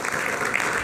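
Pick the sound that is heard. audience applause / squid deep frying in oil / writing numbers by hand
audience applause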